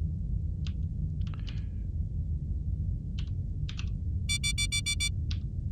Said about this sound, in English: I was typing reroute, wasn't I?